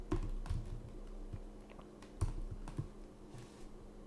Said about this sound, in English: So I'm going to type a 1.